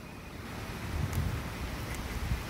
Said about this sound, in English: It's getting real windy now.